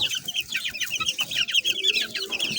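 Young chicks fed several times a day on a backyard farm chirp in a busy, overlapping chorus of high, rapid peeps, close and steady throughout, with no voices.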